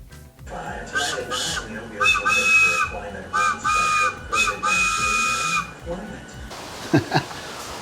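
A homemade wooden four-chamber train whistle blown in a series of loud, breathy chord blasts, several short and some held, with a faint voice near the end.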